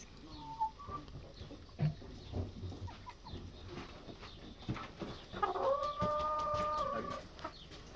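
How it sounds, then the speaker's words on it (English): Farmyard hens cluck over a noisy outdoor background, with a brief chirp early on and a louder, sustained tonal call near the end. "These are our hens."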